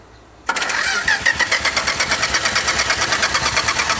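Race car engine cranking, then catching abruptly after half a second and running loudly with a fast, even, pulsing rhythm close by.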